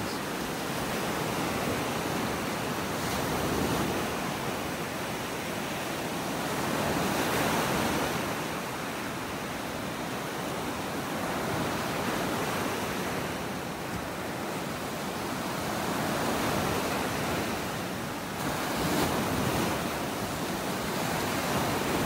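Ocean surf rolls continuously onto a beach in North Naples, Florida, as a steady broadband wash that swells at intervals with each breaking wave, with no voices.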